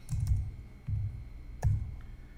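Keys pressed on a computer keyboard while a Windows command is typed, three distinct clusters of soft clicking at a slow irregular pace, close and moderately quiet.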